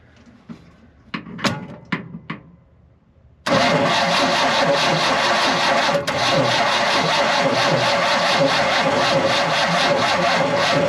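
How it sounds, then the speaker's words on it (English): A 1978 Ford F100 engine cranks in a few short bursts, then catches and fires into a loud, steady rough idle that keeps running close by to the end. "See if we can breathe this engine to life."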